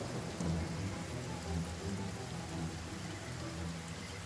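Steady, dense rainfall in the video game Divinity: Original Sin pours without a break, a constant broadband hiss with soft low rumbling underneath, close and moderately loud throughout with no voices.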